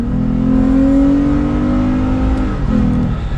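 Toyota Tacoma pickup fitted with an Injen cold air intake accelerating on the road, loud engine drone rising steadily in pitch for a couple of seconds, then dropping back as it shifts and pulls again.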